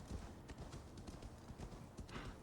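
A horse's hooves trotting in a Viking video game, a quick, close, steady clip-clop rhythm with soft thuds, no talking over it.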